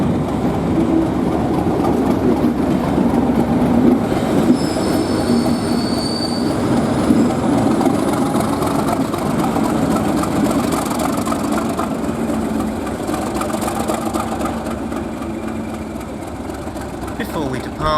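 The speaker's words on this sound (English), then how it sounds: "Before we depart, we hear the rather addictive beat of Carl Haviland's Idle Sound before leaving the station towards Great Yarmouth." A Class 37 diesel locomotive idles at a station in Norfolk, its loud, throbbing engine beat steady and close throughout, with faint squeals and rattles of rail equipment over the low rumble.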